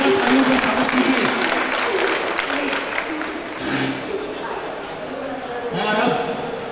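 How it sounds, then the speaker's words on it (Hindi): Audience applause at an award ceremony in Nagpur, a broad steady wash of clapping from a crowd with voices mixed in, fairly loud throughout and easing slightly toward the end. "पूरा तालियों का स्वागत कीजिए।"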